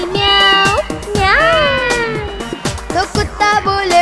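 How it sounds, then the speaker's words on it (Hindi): A cat-like meow repeats several times over steady music in a Hindi nursery rhyme about animal sounds, close and fairly loud, sung or voiced in a playful tune rather than a real animal. "बिल्ली करती म्याओ"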